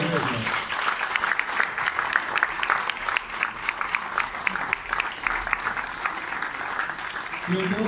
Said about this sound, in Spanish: Vamos a aplaudirlos entonces.